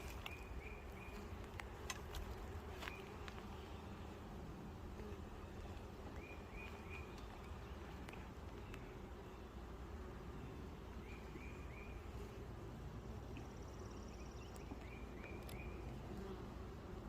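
Honeybees buzzing steadily around an opened hive during an outdoor hive check, a dense continuous hum with occasional nearer passes and faint bird chirps in the background.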